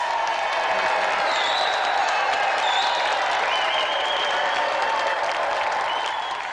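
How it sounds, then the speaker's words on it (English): Studio audience applause for a guest on a television games show, a dense, steady burst of clapping with some crowd noise that holds at full level throughout and fades slightly at the end. "Another round of applause for Marlon Rose!"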